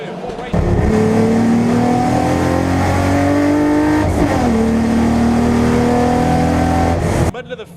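Race cars, including a rotary-engined car, accelerating hard away from a standing start, with loud engines rising in pitch through the gears and shifting together, close and continuous.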